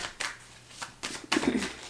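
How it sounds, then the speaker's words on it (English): Tarot cards being shuffled in a few quick papery bursts, close up, with brief riffling rattles and no talking. "I want to get another shuffle in here."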